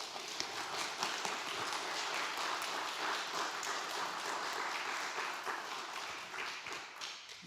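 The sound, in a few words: audience applause at a book launch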